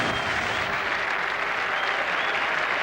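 Test match cricket crowd in Manchester applauding steadily after an England wicket falls against Pakistan, a dense, continuous wash of clapping that holds at an even loud level throughout.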